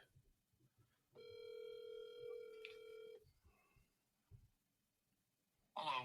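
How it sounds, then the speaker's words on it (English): A telephone call rings out on a studio podcast line: one long, steady electronic ring tone lasting about two seconds, followed by quiet, with a brief voice at the very end. "Let's call into him real quick."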